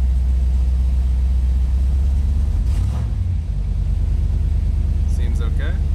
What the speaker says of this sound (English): Idling right where it should be.